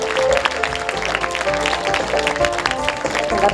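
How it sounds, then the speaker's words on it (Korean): Audience applause at a film festival closing ceremony as jury members are welcomed onto the stage: a steady, dense wash of clapping from a large crowd that fills the whole stretch without letup. "여러분 따뜻한 박수로 심사위원을 맞아주시기 바랍니다"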